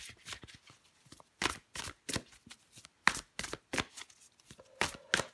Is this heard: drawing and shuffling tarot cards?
yes